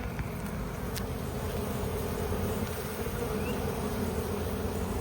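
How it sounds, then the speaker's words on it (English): Honey bees buzz at the entrance of a hive found at a homeowner's property, a continuous dense drone that holds steady and fairly loud throughout, with no voices. "There's not that many bees to march inside, but I'll try to show you."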